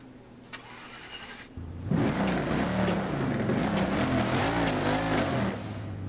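A Bugatti Chiron in the racing game Forza Motorsport 7 starts up: quiet idle hum, then the engine catches with a loud surge and settles into a rich, wavering idle with small revs, close and steady to the end.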